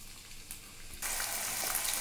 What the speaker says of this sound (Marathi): त्याच्यात मी हे जे बटाटे आहेत हे मी आता फ्राय करून घेणार